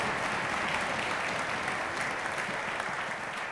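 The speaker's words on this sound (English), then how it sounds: "I'd like to give him a round of applause." A seated audience at a county orchestra event gives a steady, dense round of applause. It holds an even level throughout and sounds moderately distant, with no clear voices above it.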